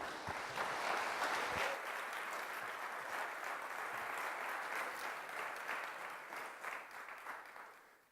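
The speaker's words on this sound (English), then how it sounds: "So please, big round of applause for Svilen." A conference audience applauds a speaker being introduced for a talk, steady crowd clapping for about eight seconds that thins out and fades near the end.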